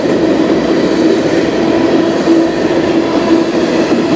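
CN M397 manifest freight train with locomotives CN 8899, CN 8878 and CN 5620 passing on the Strathroy Sub, a loud continuous rumble and roar of rolling cars close by.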